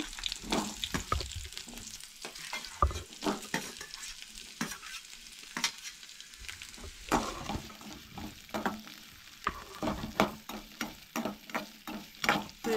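Onion sautéing in a pan for Goan stuffed brinjal curry, a continuous sizzle with repeated scraping and stirring strokes of a spatula, close and clear, with no voices.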